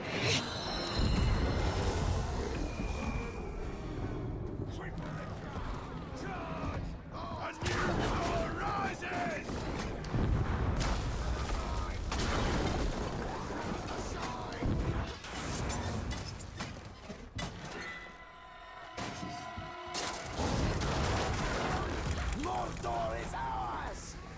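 Explosions and combat blasts from the video game Shadow of War burst in bursts of crashing noise amid clashing game effects, while someone talks over the action.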